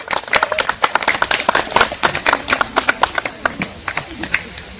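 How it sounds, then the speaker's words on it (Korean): Close, distinct clapping from a small group welcoming guests at an outdoor lawn-plaza talk event in an arboretum, with sharp individual claps in an uneven rhythm throughout. "모두 큰 박수로 환영해 주시기 바랍니다."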